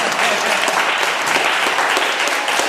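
A congregation at an evangelical forum in Lomé applauds Jesus, with loud, steady, sustained clapping from a large crowd throughout, no pauses.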